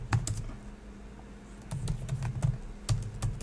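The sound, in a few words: typing a password on a computer keyboard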